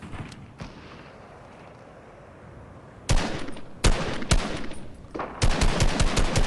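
A shotgun fires in a video game: a quiet opening with a couple of faint shots, then loud, close, sharp blasts come in quick irregular bursts through the second half, no speech.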